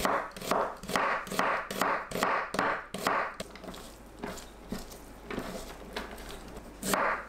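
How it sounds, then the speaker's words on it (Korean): A knife julienning half an onion on a cutting board taps out a quick run of crisp, evenly spaced chops, then continues in softer, quieter strokes with a final sharp knock. "양파 반 개를 채 썰어주세요"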